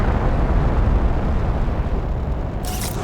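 Rocket launch in The Planet Crafter video game: a sustained, loud broadband roar with a deep rumbling low end, steady throughout with a brighter hiss rising near the end.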